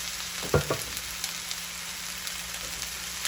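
Rice in a pan hissing and sizzling as a little coconut milk is added, with a brief louder splash early on, then a steady frying crackle with faint stirring.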